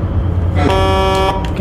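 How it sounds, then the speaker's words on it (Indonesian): Horn on a Scania truck trailer in a truck-driving game blares once, a single loud sustained honk lasting under a second, over steady engine rumble. "Kita suruh berhenti juga ya untuk kendaraan di arah berlawanan dengan menghidupkan klakson"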